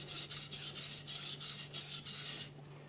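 A knife rasps back and forth on a 1000 grit whetstone in steady, close strokes, each pass a bright hissing scrape with brief gaps between, ending in a quieter pause.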